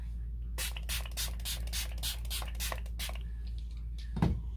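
A series of quick, hissing bursts from an L.A. Girl shimmer spray bottle, about a dozen pumps in steady rhythm, close up, followed by a soft tap of a wet makeup sponge.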